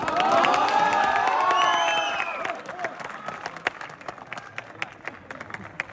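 An audience at a poetry recital at IIT Mandi bursts into loud, dense applause with cheers and whoops, then it thins into scattered, sharper claps.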